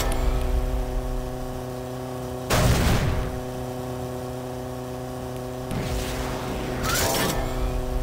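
Homing missiles launch in the Biker Mice From Mars video game. Two sharp, booming bursts a few seconds apart sound over a constant droning engine hum.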